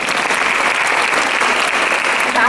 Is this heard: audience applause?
yes